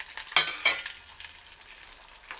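Lentils crackle and sizzle in hot peanut oil during tempering for a festival dish, with close, busy spitting pops, a couple of brighter clinks of stirring, and steady frying hiss underneath.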